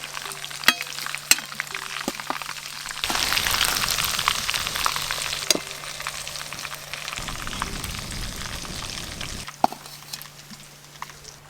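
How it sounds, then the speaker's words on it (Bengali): Chicken pieces frying in hot oil while cooking chicken biryani, a steady crackling sizzle with intermittent sharper pops and stirring clatter, close and fairly loud throughout. "মাংসগুলো বেশ ভালো করে ভাজা ভাজা করে নিয়েছি"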